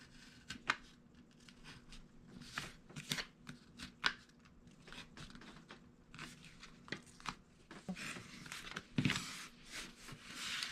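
Scissors snip and trim through paper ribbon for a holiday craft, a series of crisp, irregular cutting clicks and rustles at close range, with no talking.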